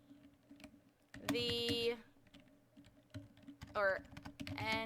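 Keys clatter on a computer keyboard in soft, irregular bursts of close clicks, broken by a few short vocal sounds.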